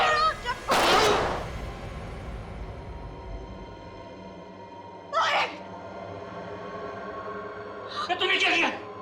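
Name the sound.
gunshot in a TV crime drama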